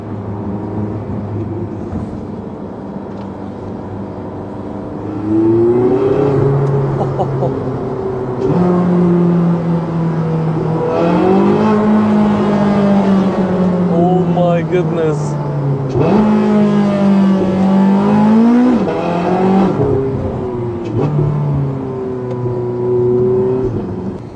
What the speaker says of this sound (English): This vehicle is the best sounding on the planet in my opinion, really. Listen to this, people.